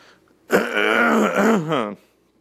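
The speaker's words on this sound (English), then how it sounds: "Sorry, I'm clearing my throat." A man clears his throat once in a long, loud, groaning rasp lasting about a second and a half, close up and followed by silence.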